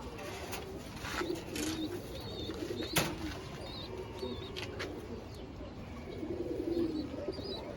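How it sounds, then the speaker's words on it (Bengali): A pigeon coos softly in a quiet indoor setting, low throaty murmurs repeating a few times amid faint chirps and light background noise. "আমি আপনাদের এখন একটা কবুতর দেখাইতেছি।"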